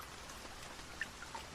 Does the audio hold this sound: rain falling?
yes